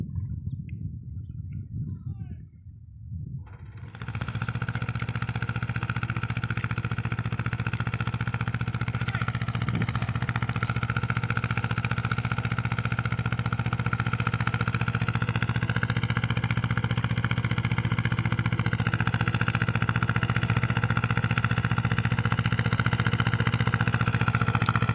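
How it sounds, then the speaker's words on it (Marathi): A tractor engine runs in a farm field while beds are being shaped for summer onion planting, a steady loud idling drone that starts after a few quieter seconds and holds unbroken to the end. "त्याला ट्रॅक्टर चालवायला लावला."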